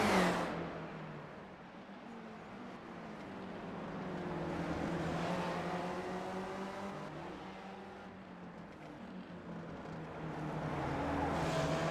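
Race cars in a sim racing video game lap the Detroit Belle Island circuit side by side, their engines a faint, steady droning hum that swells and fades as they accelerate through the lap.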